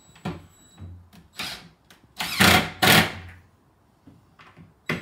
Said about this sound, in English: Don't worry about the noise of my drill